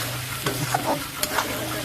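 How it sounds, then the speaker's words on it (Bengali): A spatula stirs turmeric powder through vegetables frying in a pan, steady sizzle underneath with several short scrapes and knocks spread across a couple of seconds, no talking. "নাড়াচাড়া একটু করুন"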